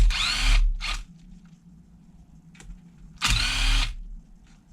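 Power drill backing bolts out of a car bumper in two short bursts followed by a longer run, close and loud, with a faint clank between them.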